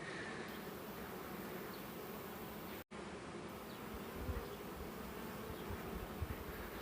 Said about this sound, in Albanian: Shife, vinë bletët, po fluturojnë, disa po hynë më andej